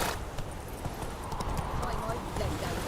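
Hooves of the horse Roach in The Witcher 3 video game, a muffled rapid galloping patter under a dense wash of ambient game noise, with some speech-like sound mixed in.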